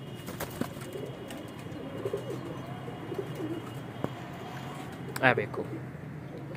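Pigeons kept for sale coo softly and repeatedly in the background, with a louder burst near the end, while someone speaks over them.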